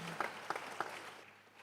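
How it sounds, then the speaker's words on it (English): Applause from a conference audience at a church-style gathering, a quiet, thin patter of scattered claps with a few sharper hits that fade out after about a second. "Please give her a round of applause."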